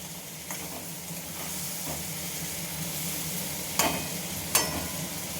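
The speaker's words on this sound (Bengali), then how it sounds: "আলুটার সাথে এবার মশলাটা আমি আবার কষবো।" Fried potatoes stir-fried with cooked-down spice masala in a pan, a soft steady sizzle with occasional scraping and two sharp spatula clacks against the metal, fairly quiet and close, no voices.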